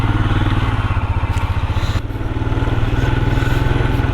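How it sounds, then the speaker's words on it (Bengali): A motorcycle engine idles and runs with a rapid, even pulsing throb, loud and close, and a faint tinny rattle rides on it from a silencer pipe guard with one screw come fully loose. "সাইলেন্সার পাইপের যে গার্ডটা হয়, ওটার একটা স্ক্রু পুরো খুলে গেছে, সেই জন্য একটু ছনছন করে আওয়াজ হচ্ছে"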